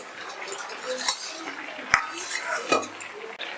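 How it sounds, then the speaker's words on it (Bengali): A lid comes off a pot of simmering potato and eggplant curry with hilsa fish, sharp metallic clinks and clatters standing out over a soft sizzle, a few distinct knocks close by. "এবার ঢাকনাটা খুলে নিচ্ছি"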